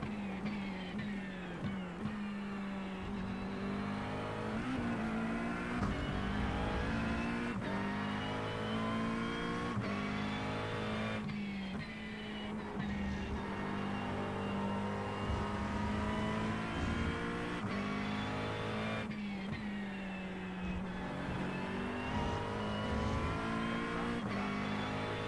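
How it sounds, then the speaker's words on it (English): Race cars on a circuit with engine whine and gear changes, as a faster class car approaches and draws near while the engine rises and drops through the revs, continuous and loud throughout. "There's a faster class car approaching."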